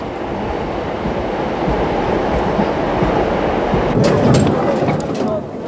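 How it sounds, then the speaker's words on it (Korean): A loud, steady rumble of a Gyeongui Line train rolling along the rails toward Dorasan Station near the Korean DMZ, with rushing air and a few faint metallic clicks near the end. "지난 4월 10일부터 비무장지대 바로 아래에 있는 도라산역까지 경의선이 운행되고 있다"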